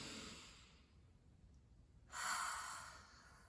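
A single slow, deep breath, first a soft, quiet inhale and then a louder, airy exhale near the end, close and calm with no talking.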